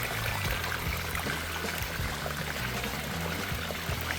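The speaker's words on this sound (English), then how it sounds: "Just love the sound of water." Water from a revamped faux rock water feature pours and splashes steadily into a backyard swimming pool, a constant close, bright rushing trickle with no talking.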